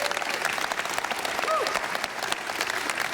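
Applause for three award winners at a business awards ceremony, steady dense clapping from a crowd filling the whole stretch, with faint voices mixed into the noise.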